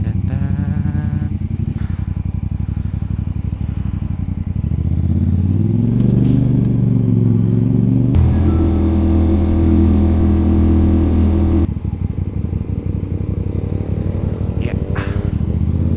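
A CF Moto 450 SR-S motorcycle idles and revs its exhaust up and down nearby, loud and steady with a rising rev in the middle, and a brief voice heard at one point.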